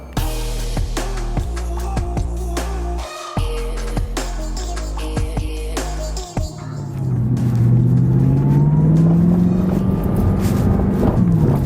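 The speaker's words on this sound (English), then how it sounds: "so the downshift there, so I just went shifted from second to the first there" A high-mileage Audi R8 drops from second to first gear, the engine note shifting through several rev changes before a swelling, rising drone from inside the car, loud and close with no talking.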